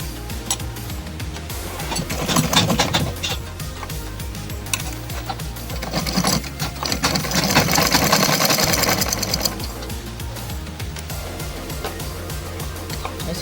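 Sewing machine stitching kurta fabric, running in steady rhythmic bursts with a continuous mechanical chatter, loud and close, swelling in intensity midway before settling.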